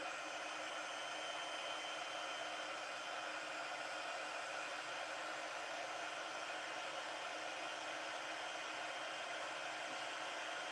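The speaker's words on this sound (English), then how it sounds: "So this is my heat tool. So I'm going to heat it, put it on number 2." Embossing heat tool set to its second setting blows a steady, loud, broadband whoosh like a hair dryer, running continuously and unchanging with no talking.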